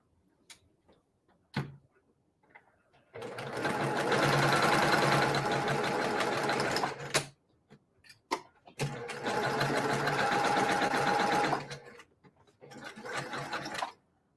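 A sewing machine stitches quilt block seams in two long bursts of rapid, even ticking chatter, separated by brief pauses with a few isolated clicks and handling noises.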